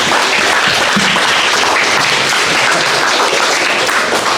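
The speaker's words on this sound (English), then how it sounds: "Can we have a round of applause for her?" Audience at a talk on responsible AI for agentic startups, held in a co-working space, giving a speaker a round of applause, a loud, close, dense clapping that stays full throughout.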